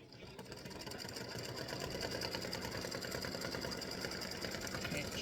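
An embroidery machine lays down underlay stitches in orange thread for a Halloween witch hat, a steady, fast mechanical whirring and tapping that runs evenly throughout at moderate loudness with no talk.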